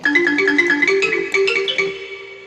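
A KORG keyboard playing an accordion voice with a reedy tone, a quick run of bright sustained notes with a steady melody line, fairly loud and close.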